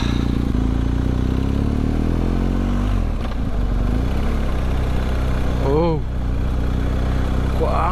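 A BMW R1250GSA motorcycle rumbles loud and close as it pulls away from a rest stop, its engine note rising steadily while wind noise roars over the helmet microphone.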